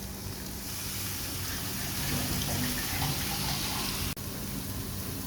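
Water splashing steadily into a pot of mussel meat soup, a soft continuous pouring rush over faint background noise, with a brief click near the end.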